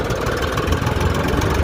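A tractor engine runs steadily close by, a continuous low, rumbling drone that holds without pauses or breaks.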